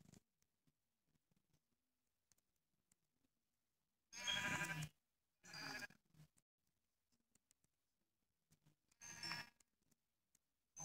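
Sheep in Minecraft bleat three times in short, bright calls spaced a few seconds apart, clear and close against near silence with faint clicks between them.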